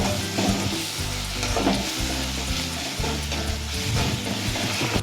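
Turmeric, salt, red chilli powder and ginger-garlic paste sauté in a hot pan for Bengali foli fish curry, sizzling loudly and steadily while being stirred, with rhythmic scraping strokes and no talking.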